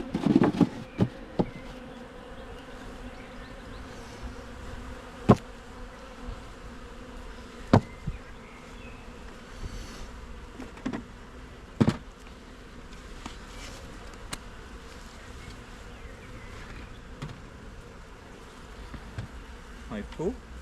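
Honey bees buzz around a colony hive during an inspection, a steady close insect drone with scattered sharper clicks and knocks.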